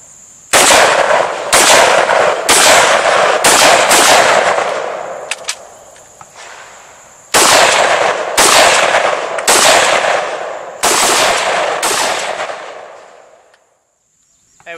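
Piston-driven SIG 556 Patrol rifle fired outdoors at close range in two bursts of sharp, loud shots, about five or six evenly spaced reports each, every crack followed by a short decaying echo.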